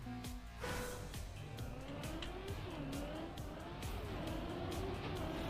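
Engine of a race car in the Trackmania video game revs and shifts pitch repeatedly, with tire squeals and clicks layered over a steady, loud driving roar and no voices.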